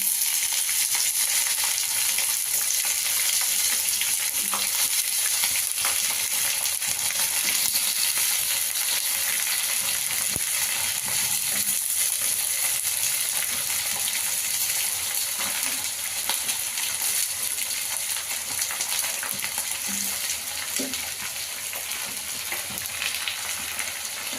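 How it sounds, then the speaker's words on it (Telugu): Brinjal pieces sizzle and fry steadily in a pan over browned onions, a dense, constant hiss with faint stirring clinks throughout and no talk. "ఇప్పుడు వంకాయ వేసుకుంటున్నా ఫ్రెండ్స్."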